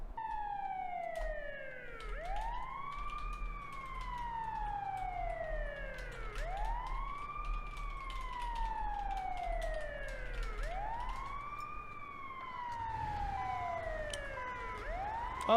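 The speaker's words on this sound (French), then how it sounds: "On va peut-être y aller sans les sirènes." Police car sirens in a video game wail in long rising and falling sweeps, repeating every few seconds over a low engine drone, steady and fairly close.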